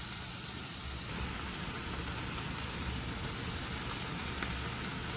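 Spring onion whites frying in a hot wok with chicken for hakka noodles, a steady, dense sizzle that holds even and fairly loud across the whole stretch with no voices.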